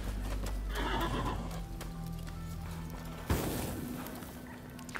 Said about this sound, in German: jetzt steht ein dämliches Pferd da.